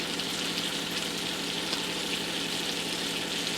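Butter melting in a pan for baked lobster mac and cheese, a steady, dense sizzle and hiss that holds even and close throughout with no talk.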